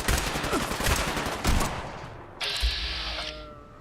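Rapid bursts of gunfire from fighting enemies in Fallout 4, loud and dense for the first half, followed by quieter mechanical clatter and a sustained high-pitched tone.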